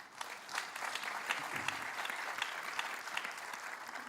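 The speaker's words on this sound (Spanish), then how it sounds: "Amén, hermanos, denle un aplauso a Dios por eso." A church congregation applauds during a Sunday service, a steady wash of many hands clapping that sounds soft and somewhat distant, sustained evenly throughout with no voices standing out.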